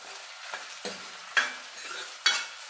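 Onions fry and sizzle in a hot pan for Kolhapuri misal while a spoon stirs them in four or five distinct scraping strokes over a soft, steady hiss.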